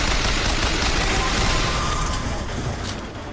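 Gunfire in the video game Bioshock Infinite: dense, continuous rapid shots blur into a loud, sustained roar that eases off slightly near the end.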